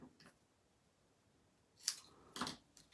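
Scissors snipping card stock for a handmade greeting card: a faint cut at the start, then two crisp, close snips in quick succession after a quiet pause, with no talking.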